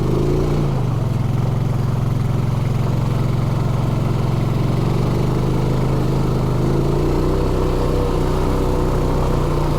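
A Honda Foreman ATV engine drones loud and close as the machine churns through deep mud, its pitch holding steady, then rising and shifting as the throttle changes, with no talking over it.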